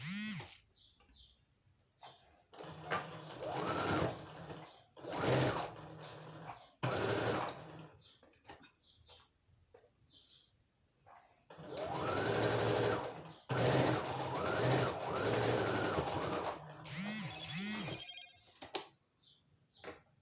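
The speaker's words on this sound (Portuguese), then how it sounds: "Eu vou na máquina e vou fazer uma costurinha de segurança prendendo essa minha abinha aqui." A sewing machine runs in several bursts while stitching down a small fabric tab on a notebook cover, its fast rattling hum stopping and restarting between short quiet gaps, close up.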